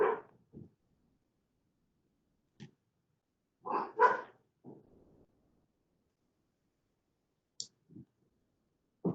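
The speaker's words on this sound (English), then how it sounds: "Sorry about my dogs again." Dogs in a home bark in scattered short bursts, a few single yips and a louder double bark in the middle, fairly near but with long quiet gaps between them.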